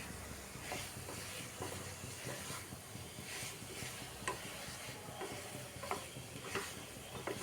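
Potato and pointed gourd pieces frying with spices in a pan, a faint continuous sizzle with soft, regular stirring scrapes, quiet and close, no voices.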